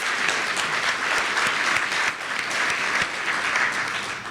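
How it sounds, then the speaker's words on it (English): A charity gala audience applauds its celebration sponsors and community champions, loud, dense clapping from a big room that holds steady throughout with a brief dip midway and no voices on top. "let's give all of our celebration sponsors and community champions a big round of applause."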